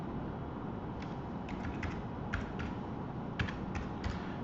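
Someone types a short password on a computer keyboard, a handful of light, close key taps in small irregular bursts over a quiet background hum, with no one speaking.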